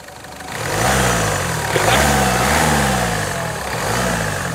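The 1.4 TDCI diesel engine of a Ford Figo revs repeatedly, each rise and fall of grunting drone clear and close, three swells over a steady idle with no talk.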